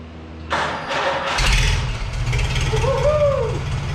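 Farmall H tractor with a recently worked-on carburetor being cranked over and firing up, a starter grind followed by the engine catching and a low rumble building, with a brief voice under it.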